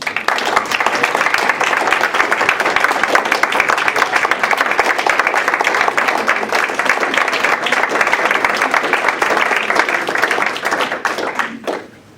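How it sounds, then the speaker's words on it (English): A roomful of people at a school board work session gives a sustained round of applause, dense steady clapping for about eleven seconds that cuts off sharply at the end. "So I would like to extend to her a round of applause for a moment"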